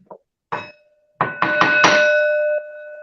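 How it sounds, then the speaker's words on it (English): A bell rung as a cue for a podcast segment: after a couple of short knocks, several bright rings strike in quick succession and sustain into a long, clear ringing tone, close and alone with no talk. "ring the bell for side piece"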